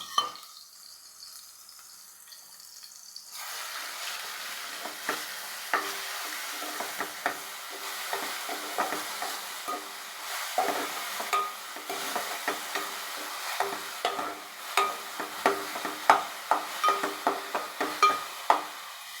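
Tempering spices crackle and sizzle in hot oil in a pan, starting with a brief louder burst, then a steady frying hiss broken by frequent sharp stirring clicks and pops. No one speaks.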